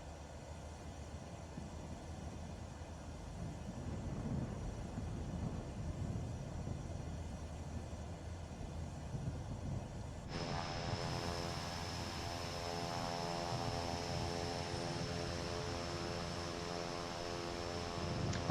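A Cessna 408 taxiing in Flight Simulator 2024 gives a steady engine drone and hum that shifts partway through to a brighter whine with layered tonal harmonics, continuous and even throughout.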